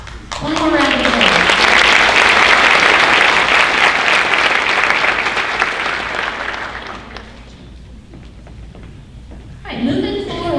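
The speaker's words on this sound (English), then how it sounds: "One more round of applause." An audience at the 2019 Bremen High School honors night breaks into loud, sustained applause that swells, then tapers off over several seconds, before a voice speaks at the end.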